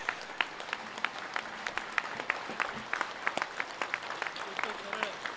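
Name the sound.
audience clapping loudly at yoga event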